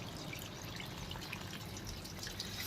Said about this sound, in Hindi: ये ऑन हो गया, यहाँ पे ये पानी आने स्टार्ट हो गया इस पर सभी पे